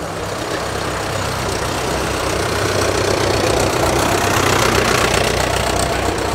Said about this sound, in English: A Fordson Power Major.